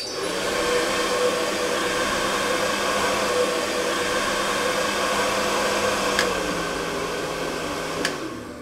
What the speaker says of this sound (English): Time to dry my hair. Here is my hair dryer.